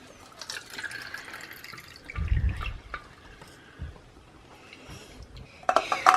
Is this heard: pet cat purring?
no